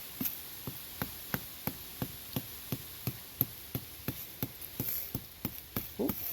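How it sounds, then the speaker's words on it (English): A stick hammers a tent stake into the ground at a bushcraft camp spot outdoors, giving a steady series of sharp, fairly faint knocks at an even rhythm over a constant background hiss. "Hammer that bad boy in."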